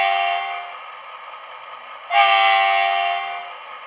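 Horn sound function of a Roco Siemens Eurorunner model locomotive in Adria Transport livery: a sustained two-tone blast that shifts to a louder, brighter second note midway, played alone with no talk.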